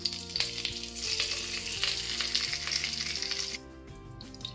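Bay leaf and curry leaves sauté in a hot kadai, a bright, steady sizzle with frequent stirring clicks close by, softening near the end, while background music plays.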